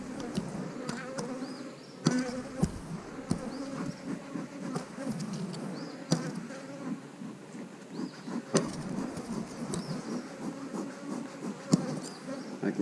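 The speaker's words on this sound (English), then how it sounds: "more bees over in the center" Bees hum in a steady buzz around an open beehive during an inspection, close and moderately quiet, with sharp clicks and handling knocks scattered through.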